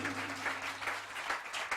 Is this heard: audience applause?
yes